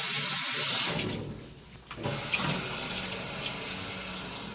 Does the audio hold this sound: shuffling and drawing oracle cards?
no